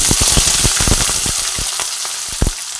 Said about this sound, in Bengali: ক্যাপসিকামটা ভেজে নিচ্ছি গ্যাসের ফ্লেমটা মিডিয়ামে রেখে ক্যাপসিকামটাকে ভেজে নিচ্ছি